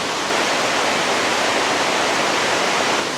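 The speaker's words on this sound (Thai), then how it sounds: "มันอยู่รอบเราเลยอะน้ำตก" Nang Khruan waterfall in Tak, Thailand, cascades over multiple rock tiers, a loud, steady, dense roar of rushing water surrounding the listener, unbroken and alone without voices.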